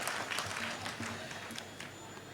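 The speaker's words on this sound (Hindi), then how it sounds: "और आप तालियां वालियां ठोक दोगे तो मैं शुरू भी हो जाऊंगा" Applause from an audience at a mushaira poetry recital in Saki Naka, Mumbai, a brief, fairly faint patter of many hands clapping together, heard from a distance in a hall.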